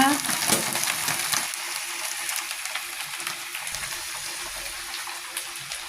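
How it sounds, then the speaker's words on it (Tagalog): Pechay (bok choy) frying in a pan, a bright crackling sizzle with scattered pops and spits that is loudest at the start and eases slightly, occasionally stirred, close by. "Fry natin yung ating pechay."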